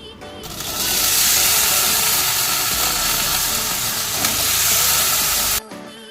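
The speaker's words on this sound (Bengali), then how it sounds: "সন্ধেবেলা করছিলাম চিড়ে ভাজা।" Flattened rice (chire bhaja) fries in a pan with a loud, steady sizzling hiss. The sound starts abruptly, holds for about five seconds and then cuts off sharply.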